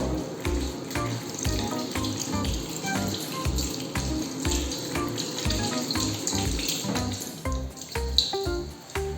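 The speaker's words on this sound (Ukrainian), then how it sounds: "Змиваємо руку." Tap water runs steadily into a sink while hands are rinsed during a hand-hygiene routine, a continuous close splashing hiss with small irregular gurgles throughout and no talking.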